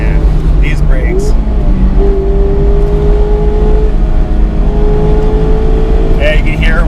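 A Mazda MX-5 Miata RF (ND) engine revs and whines as it accelerates toward 60, a loud sustained drone rising in pitch, with a voice speaking over the noise.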